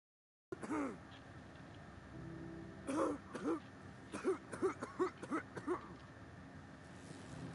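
A character in the video game The Outer Worlds coughs and clears the throat in a short series of harsh bursts, fairly quiet, over a low ambient hum.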